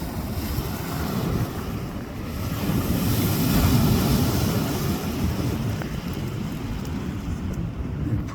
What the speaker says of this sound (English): You can hear all these branches breaking as the waves hit here.